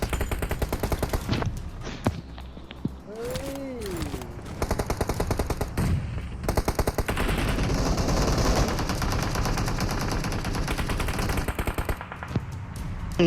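Automatic weapon fire in the mobile battle-royale game PUBG Mobile, loud bursts of rapid shots close by with a brief pause, then sustained dense gunfire, with a voice briefly under it.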